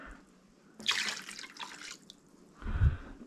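A cup of water is poured into a container of fish brine, a brief splashing gush followed by a heavier slosh, close and fairly quiet with no talking.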